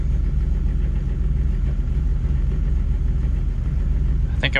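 A 1987 BMW's S50B30US engine idles roughly with a low, steady rumble and faint rhythmic ticking of cam chatter, close and continuous, with a brief sharp noise at the very end.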